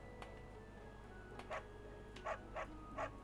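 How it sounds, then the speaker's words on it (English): A dog in a video game gives a handful of short yips and barks, about five spaced notes at moderate volume over a steady background hum. "Hi, doggy. Hi. Can I pet you?"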